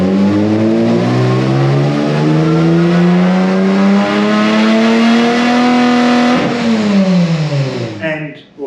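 Supercharged J-swap Honda Civic drag car engine revs hard and close, its pitch climbing steadily for several seconds before dropping off and cutting out near the end.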